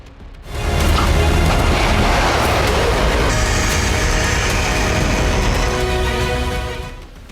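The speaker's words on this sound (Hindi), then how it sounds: "महातबाही का विस्फोट।" A dramatic explosion sound effect for a missile strike, with a loud booming blast that swells into a long, rolling roar and rumble lasting several seconds before fading. No voices are heard.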